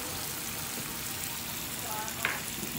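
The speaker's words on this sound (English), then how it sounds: "The Marsala wine. And you let that come to a nice boil." Marsala wine bubbling hard in a pan for veal Marsala, giving a steady close sizzle with a brief clatter near the end.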